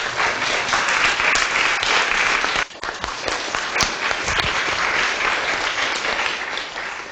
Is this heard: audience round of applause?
yes